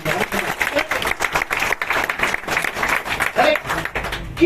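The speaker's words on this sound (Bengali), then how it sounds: "ওর জন্য একটা জোরালো হাততালি" An audience at an indoor mindset training session gives steady, dense applause that runs throughout, with a voice heard briefly over the clapping.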